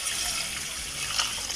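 Water poured into a saucepan of brown basmati rice, a steady close splashing gush that fills the moment without pause.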